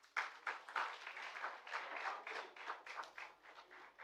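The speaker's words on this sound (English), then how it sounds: "I believe there should be a round of applause for them" Applause from a small audience at an Indian certificate award function held in Sri Lanka; faint, uneven clapping in bursts that rises and dips over a few seconds.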